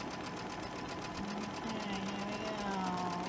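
A sewing machine stitching at a steady, even whir with a rapid mechanical pulse, close by and continuous; a voice says a single short word partway through.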